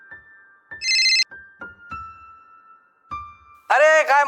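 A telephone ringtone sounds twice in a Marathi television drama scene, each bright electronic burst about half a second long, close and loud, separated by sparse quiet tones, with a short musical sting at the end.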